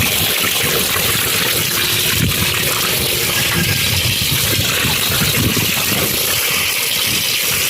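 Water gushes steadily through a homemade pipe rigged for washing a bicycle, a continuous broadband rush with a faint engine or pump hum underneath, close and loud throughout with no talk.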